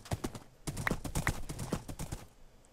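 Rhythmic clip-clop of a horse's hooves galloping in the video game Minecraft, a quick run of close, fairly faint thuds in steady succession, with no talking.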